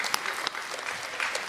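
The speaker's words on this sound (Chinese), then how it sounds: "鼓掌吧！" A live audience claps during a crosstalk comedy stage show, a short burst of dense applause with a few sharper, louder claps standing out.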